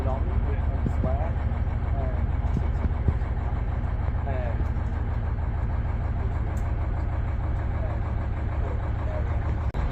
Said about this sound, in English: we've got one engine there belching out loads of smoke